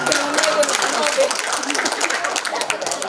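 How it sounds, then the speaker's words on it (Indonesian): Audience applause at a church psalm-reading contest for seniors, a steady dense patter of clapping filling the whole moment, with a host's voice speaking over it. "Kita beri aplaus sekali"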